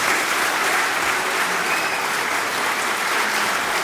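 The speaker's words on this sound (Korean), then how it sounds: "발표해 주시느라 고생해 주신 김동영 회장님께 마지막으로 큰 박수 부탁드리겠습니다." Dense, steady applause from residents at a community briefing event, a continuous wash of clapping filling the room for a few seconds without speech.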